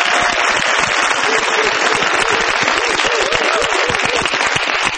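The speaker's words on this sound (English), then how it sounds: "Big round of applause for this." Audience applause for a contestant on a game show, a loud, sustained, dense burst of many hands clapping close by with no talk over it.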